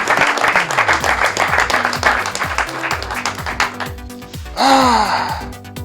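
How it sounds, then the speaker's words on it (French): An audience claps loudly in honor of an arriving guest, dense applause for about four seconds before a voice breaks in with an emotional, wavering exclamation. "faites un maximum d'applaudissements en son honneur"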